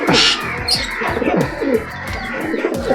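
Pondicherry homer pigeons coo in a close, steady run of low rolling calls, with faint chirps and wing sounds mixed in and no talking.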